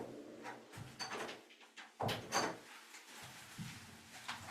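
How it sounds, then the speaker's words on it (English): An interior door being pushed shut with soft wooden knocks and rubbing, a few separate bumps with a firmer thud near the middle, heard close in a quiet room with no talking. "I will close the door."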